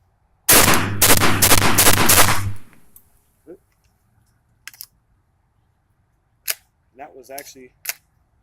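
A Benelli M2 semi-automatic shotgun fitted with a TTI recoil spring fires a rapid string of loud, close shots in about two seconds, followed by quieter scattered clicks and brief mechanical sounds.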